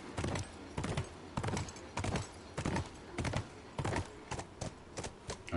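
Horse hooves clip-clop in a steady, uneven gait during horse riding in the video game The Last of Us, with about a dozen sharp, fairly close thumps rising over a constant background bed.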